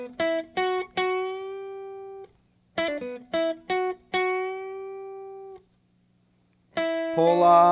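Electric guitar working through the pull-off line from the first solo of a song: clean plucked notes in quick groups, some left to ring and fade, played twice with a pause, alone and close.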